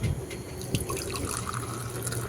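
Milk pours steadily into a glass, a continuous splashing, gurgling stream close by for a couple of seconds.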